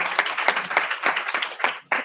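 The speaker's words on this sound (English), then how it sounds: "So let's give a round of applause." A small group claps briefly at a student senate meeting, a short burst of uneven, fairly close handclaps in an indoor room that stops abruptly.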